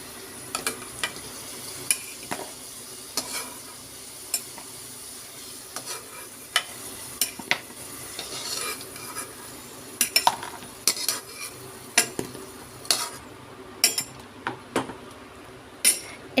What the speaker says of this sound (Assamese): অকণমান ৰঙচুৱা হোৱাকৈ আলুকেইডোখৰ মই ভাজি ল'ম